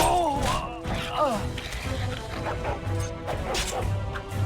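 A dog companion barks in the fantasy role-playing game Dragon Age Origins, several sharp barks and yips over a busy battle of thumps and clashes, with someone talking over it.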